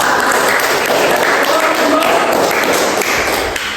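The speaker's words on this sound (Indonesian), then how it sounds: "Tepuk tangan buat kelompok." A classroom group claps for a student team, with loud, busy, continuous applause and some tapping close by throughout.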